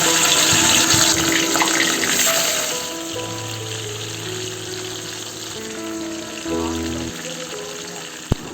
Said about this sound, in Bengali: কড়াইতে তেল গরম হয়ে গেছে, ইলিশ মাছগুলো দিয়ে দিচ্ছি।